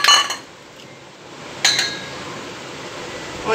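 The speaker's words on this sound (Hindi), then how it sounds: "उसके लिए मैं सारी चीज़ों को मिक्स कर दूँगी" Metal utensils clink against a bowl while paneer stuffing with sweet corn, onion, capsicum and green chilli paste is mixed, with a few sharp scrapes and taps and quieter stirring between them.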